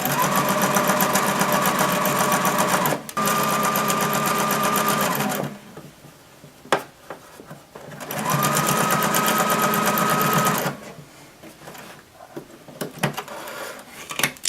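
A sewing machine stitches a stuffed dinosaur toy in two long steady runs of rapid motor-driven stitching, close and loud, with a pause and small handling clicks between them and quieter fiddling at the end.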